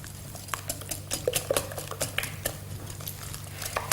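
Frittata ingredients, including laverbread, get mixed in a bowl, with rapid irregular scraping and clinking of a utensil against the sides, close up and continuous over a low steady hum.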